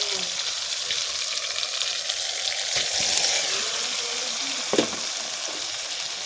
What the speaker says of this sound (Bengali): এখানে দিয়ে দেবো আমি ভেজে রাখা আলু ও পটল